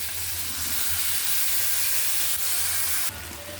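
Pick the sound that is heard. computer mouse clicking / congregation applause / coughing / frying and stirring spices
frying and stirring spices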